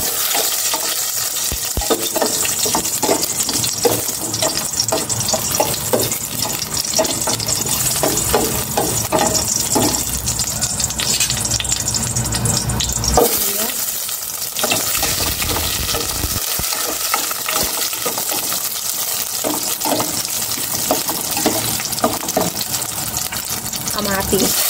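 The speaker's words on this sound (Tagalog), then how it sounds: "Maglalagay na ako ng cooking oil. Gisa ko na itong bawang." Garlic sautés in hot cooking oil in a pan, a loud continuous close sizzle with scraping from stirring throughout, and a voice talking now and then over it.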